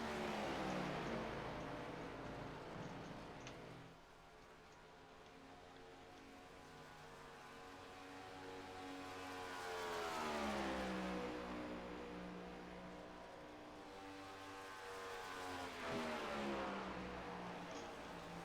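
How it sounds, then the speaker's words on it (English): Sim racing car engines at Michigan International Speedway, from a video game, rise and fall in long revving sweeps, climbing in pitch as they accelerate, faint and somewhat distant with a hissing background. "Both guys still hard into the gas pedal and loud and just revving these motors"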